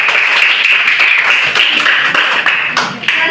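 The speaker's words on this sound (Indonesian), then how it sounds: "Berikan aplaus kepada kelompok 3" A classroom group breaking into applause, a dense, close burst of many hands clapping together that continues for a few seconds, then thins toward the end.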